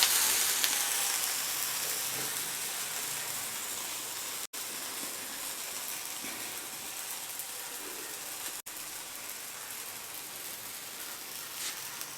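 Navadhaniya adai, a mixed-pulse dosa, frying on a hot pan with a constant soft hiss and crackle of oil, steady and close with no talk.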